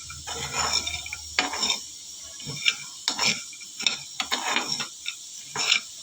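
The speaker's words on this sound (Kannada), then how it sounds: "ಈ ಥರ ಸಣ್ಣ ಉರಿನಲ್ಲಿ ರೋಸ್ಟ್ ಮಾಡ್ಕೊಳ್ತೀನಿ" Masala-coated peanuts dry-roast without oil in a pan over a low flame, a spoon stirring them in irregular scraping clicks and rattles, close and fairly quiet.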